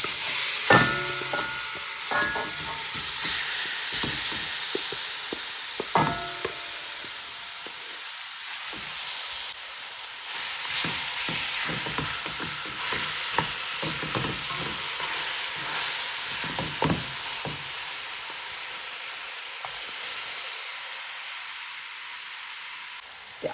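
Curried oxtail seasoned with curry powders, onion powder, garlic powder and red pepper sizzles in a pot over low heat, a steady frying hiss broken by repeated scraping stirs, close and moderately loud with no talk.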